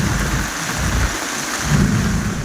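Heavy rain pours with thunder and strong wind around Kotagiri in the Nilgiris district, a steady dense roar of rainfall with low rumbling swells and no voices.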